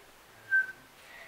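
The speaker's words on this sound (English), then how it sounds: "Oh crap, it's making me whistle." A single short whistled tone, clear and steady for about a quarter second, rising out of a quiet, hissy background.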